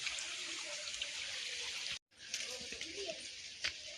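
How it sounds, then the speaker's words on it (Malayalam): Steady broadband rush of a stream flowing from a waterfall in a dense Kerala forest, briefly cutting out midway, with faint voices underneath. "അരുവിയാണ്"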